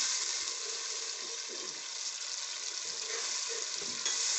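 Tomatoes and spices frying in oil for a degi-style chana pulao give a steady, close, dense sizzle that holds evenly throughout with no voices.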